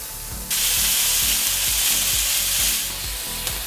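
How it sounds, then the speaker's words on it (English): Skewered chicken satay hits a hot grill pan over medium-high heat, bursting into a loud, steady sizzle that holds close and strong, with a rhythmic low thumping in the background and no talk. "You wanna hear those chickens sizzle."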